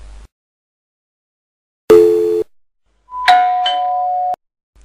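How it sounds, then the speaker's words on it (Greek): A doorbell sounds in short, separate electronic tones: one buzzy chime, then a two-note ding-dong after a brief pause, against near silence. "το τζίνι θα σου χτυπήσει το κουδούνι αμέσως"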